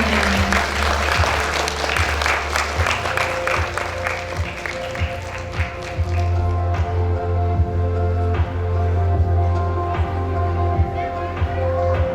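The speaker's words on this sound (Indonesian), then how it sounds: "Tepuk tangan." Audience applause at an elementary school farewell and graduation ceremony, a burst of crowd clapping that builds and carries on under a hall's amplified sound, with an announcer's voice and background music overlapping.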